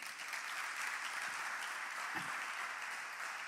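A church congregation at a youth service applauds in praise of Jesus, a dense, even wash of clapping that holds steady for the whole stretch with no voices over it.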